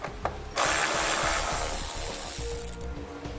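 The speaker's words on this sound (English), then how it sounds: "We're going to be using an 8 millimeter socket to remove those." A power tool drives an 8 millimeter socket to remove screws across the front of a vehicle while a tail light wiring kit is installed, producing a loud, steady whirring burst lasting about two seconds after a brief click.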